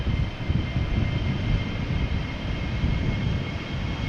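A KLM jet airliner departs Amsterdam Schiphol with a loud, steady engine roar that holds level throughout, a broad continuous rumble with a faint whining tone on top and no voices.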